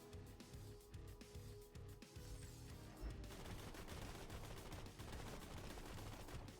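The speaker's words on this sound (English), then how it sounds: "This is just a Gatling gun." Sustained rapid gunfire from a Gatling gun in a video game, a dense continuous rattle that holds loud and steady throughout, with no speech over it.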